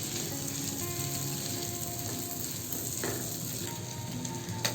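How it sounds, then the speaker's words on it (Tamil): Eggs roast in a pan with chili powder and salt, giving a steady, close frying sizzle with faint scraping stir sounds and no talk. "பொறுமையாக இது போல் ரோஸ்ட் பண்ணி எடுத்துக்கணும்"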